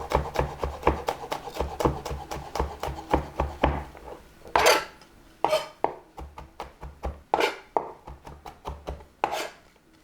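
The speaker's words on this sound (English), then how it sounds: "Nice rough chop on the garlic" A knife rough-chops garlic on a cutting board with quick, crisp, evenly spaced knocks, close and clear, pausing now and then for a few louder scraping strokes before the chopping resumes.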